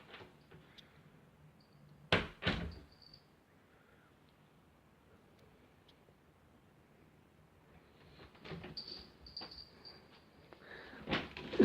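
A new front door at home opens and closes, heard as faint clicks and a couple of soft knocks and thumps over a quiet room.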